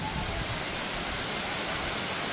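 A Konkan waterfall pours in a steady, dense wash of broadband roar that holds unchanged at moderate loudness throughout, with no voices over it.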